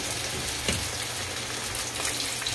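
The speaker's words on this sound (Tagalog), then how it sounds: "Maluluto na lang siya dito sa kawali natin." Cooked rice frying in oil in a wok-style pan while making biko, the Filipino sticky rice snack, giving a steady soft sizzle with faint crackles throughout, fairly quiet and uninterrupted.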